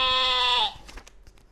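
A human voice imitates a sheep's bleat while reading a children's picture book aloud: one drawn-out, wavering 'baa' close to the microphone, then quiet.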